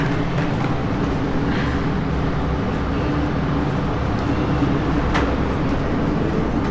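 A two-car train in Sapporo runs with a steady, loud low rumble and rattling, with a couple of brief squeaks along the way.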